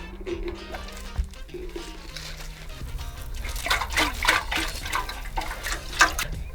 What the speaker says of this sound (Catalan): he agafat aquesta regadora, una regadora, i tirarem una mica d'aigua.